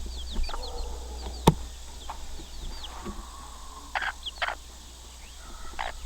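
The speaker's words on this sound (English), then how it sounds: "But here's a mama with her 2 babies, and this is how you are supposed to raise your chicks." A mother hen clucks softly on a homestead while her two chicks peep in high, thin calls, scattered short sounds over a faint steady background hum, with no talk.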